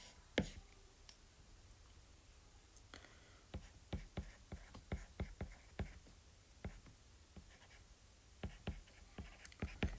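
Pen or marker strokes drawing chemical structures by hand: soft, quiet scratches and taps in irregular bursts, close up against a faint background hiss.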